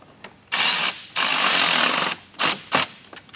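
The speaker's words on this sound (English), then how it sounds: "So we're going to start with our Phillips head screws. Getting those" A power tool drives Phillips head screws into Rokblokz rally-style mud flaps on a 2022+ Rivian R1T, in several loud buzzing bursts: two long runs followed by shorter quick pulses, with no talk.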